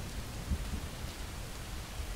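Steady rain hiss from a video game, a continuous broadband wash with soft low rumbles, falling evenly throughout with no voices.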